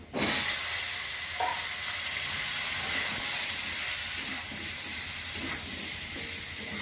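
Ridge gourd pieces dropped into a hot pan of oil, a sudden loud sizzle that settles into a steady, close hiss lasting several seconds, with faint stirring and no talking.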